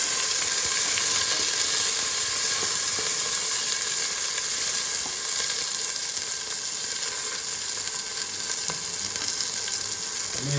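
Onions sizzle steadily in a hot pan for a Jaffna-style crab curry, a dense, continuous frying hiss with occasional soft stirring scrapes, close and loud throughout with no talk.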